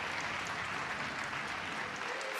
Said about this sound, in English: The crowd just popped hard